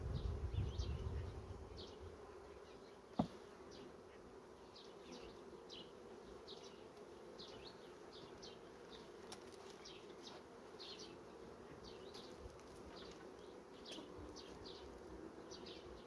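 A steady, dense buzz of many honey bees at an open hive during an inspection, continuous and close, with one brief knock early on.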